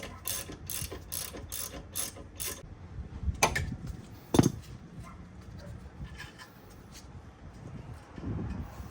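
Ratchet wrench tightening the rear brake caliper bracket on a 2008 Kia Sportage: a quick run of clicking strokes, then a couple of sharp metallic knocks and quieter mechanical handling, close up.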